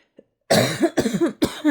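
A short run of harsh, chesty coughs, three or four bursts in quick succession, loud and close after a brief quiet moment.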